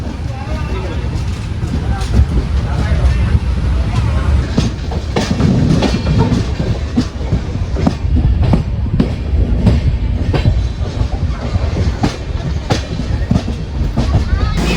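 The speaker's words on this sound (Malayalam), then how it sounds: "ഒരു മണിക്കൂർ 3 മിനിറ്റ് ലേറ്റായിട്ട് 12:48 നമ്മൾ രത്നഗിരി റെയിൽവേ സ്റ്റേഷനിൽ എത്തിയിട്ടുണ്ട്." Mangala Lakshadweep express hauled by a WP7 locomotive pulling into Ratnagiri station, loud continuous wheel clatter and rumble with rhythmic clicks over the rails, with people talking over it.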